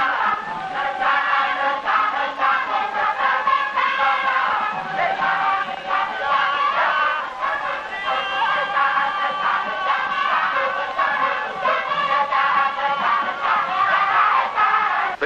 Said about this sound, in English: The crowd gets more and more excited watching the play